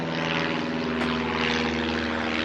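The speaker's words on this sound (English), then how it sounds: "See the plane?" A propeller airplane drones overhead near a seaside cemetery by the North Sea, a steady continuous engine hum holding at constant loudness throughout with no talk.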